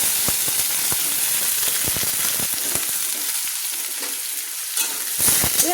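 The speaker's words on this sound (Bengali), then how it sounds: "এবার পেঁয়াজটাকে আমি হালকা ভেজে নিচ্ছি, খুব বেশি কিন্তু ভাজছি না।" Chopped onions frying in hot oil with half a spoon of cumin, a continuous dense sizzle with scattered sharp crackles and pops, close and fairly loud.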